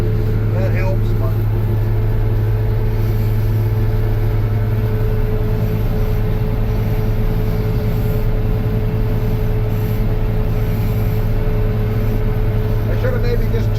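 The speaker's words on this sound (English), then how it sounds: "the picker seems to be going through the snow all right" Tractor-drawn corn picker running through snow on a hillside, a loud, constant droning engine and machinery hum with a strong low tone throughout, a voice talking over it.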